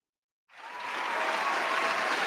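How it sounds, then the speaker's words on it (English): A round of applause rises suddenly out of silence and swells into a steady, full wash of many hands clapping, moderately distant, with no voices on top. "You're gonna get a round of applause."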